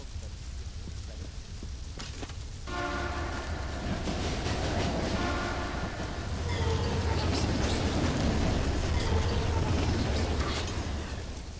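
A train rolls past in a video game, its rumble and rail clatter rising and holding steady for several seconds, with horn-like tonal bands entering midway over the noise.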